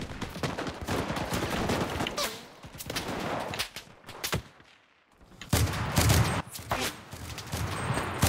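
Repeated gunfire in the World War II shooter Enlisted, a mix of single shots and rapid bursts with a brief lull around the middle, fairly near and loud throughout.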